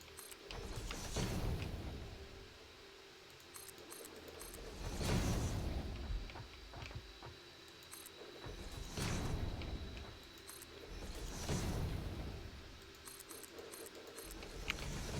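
A factory machine in Satisfactory assembling reinforced iron plates, cycling in a steady rhythm of ratcheting mechanical clanks and whooshes about every four seconds over a constant hum.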